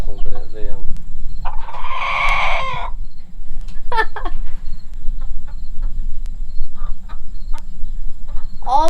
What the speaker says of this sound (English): All black chickens, inside and out.